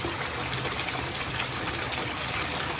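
Tap water runs steadily and fairly loud over a bath truffle mixture in a bathtub or sink, a continuous broadband gush with no talking.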